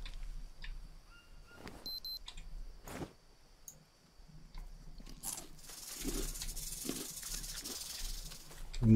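A snake in the jungle survival game Green Hell hisses amid clicking and ticking game sounds, with a sharp hiss building and growing louder toward the end; no talk is heard.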